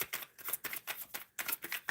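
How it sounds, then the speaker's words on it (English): Tarot cards are shuffled in quick, soft, riffling bursts with brief pauses, faint and close, alone without talk. "Okay, shuffling for just Janelle"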